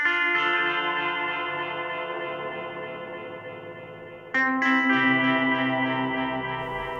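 A Mellotron M4000D MkII rock guitar patch played through a mono tape delay with feedback, sustained chords ringing out in long echoing repeats that slowly decay before a fresh chord strikes loudly midway.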